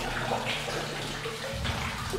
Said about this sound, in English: This spring shooting out of the side of the wall.